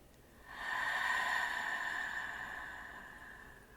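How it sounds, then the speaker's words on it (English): One slow, deep breath, a soft airy inhale swelling then easing into a long exhale, close and quiet with no talking. "these deeper, slower, more mindful inhales and exhales"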